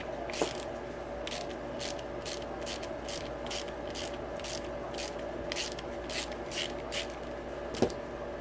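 A threadlocked bolt being backed out of a motocross part with a ratchet, a steady run of rapid clicks close up over a background hum, with no talk.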